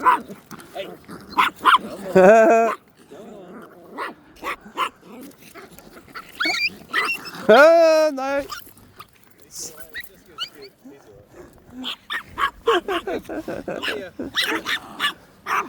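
A dog barks, yips and whimpers in short, loud bursts on a walk in Naenae, with long quiet gaps between and people talking around the barks.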